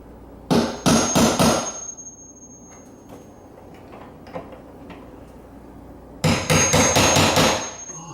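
Two bursts of rapid hammer blows on a metal nail set, about four to six strikes each, loud and close, separated by a quiet pause with faint shuffling.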